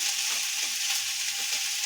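Spices, garam masala and salt frying in a pan for Uttar Karnataka-style beans palya, a steady close sizzle with faint scraping of stirring.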